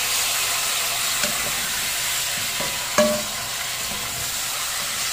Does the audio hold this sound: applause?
no